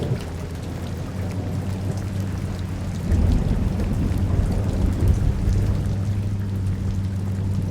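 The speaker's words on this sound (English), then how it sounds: "So we're driving to Canada in the middle of the night, and this insane rainstorm hits us." An intense night rainstorm with thunder, heard from a moving car on the road to Canada: a dense, steady roar of heavy rain with a low rumble that grows louder partway through, and no talk.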